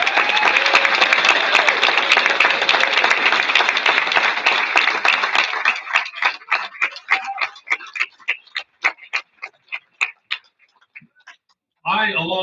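Hall of Fame induction ceremony crowd applauding new inductees: dense, steady clapping fills the hall for several seconds, then thins to a handful of isolated claps spaced further apart before stopping, followed by a voice starting to speak.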